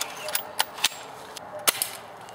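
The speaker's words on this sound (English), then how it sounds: "So put it on fire, then cock it, and then shoot it." An A&K SVD II Dragunov spring-powered airsoft sniper rifle being fired, a series of sharp, sparse snapping clicks at uneven intervals, fairly close against a quiet background.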